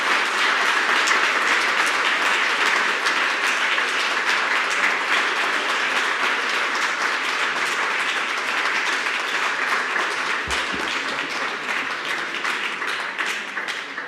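A large summit audience gives sustained, dense applause with even, continuous clapping from start to finish.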